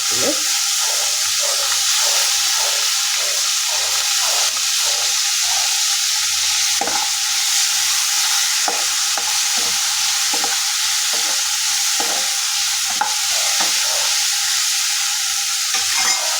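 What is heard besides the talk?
frying okra in a pan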